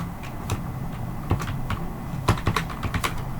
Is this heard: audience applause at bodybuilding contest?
no